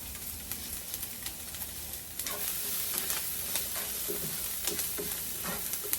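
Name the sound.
onions sautéing in a pan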